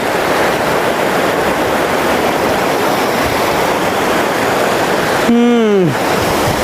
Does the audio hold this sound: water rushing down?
yes